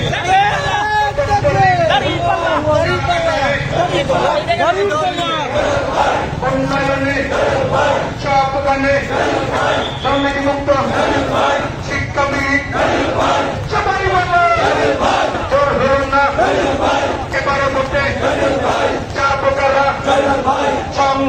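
Crowd at a Jamaat political rally in Dhaka chanting slogans in call-and-response, many voices loud and close in rhythmic repeated phrases, with constant crowd noise and a leader's voice over the chant.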